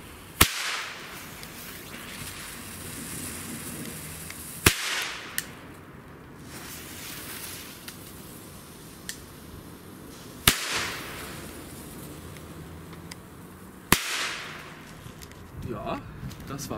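Old Komet firecrackers go off one at a time, four sharp, loud cracks spaced several seconds apart outdoors, with people talking quietly between the bangs.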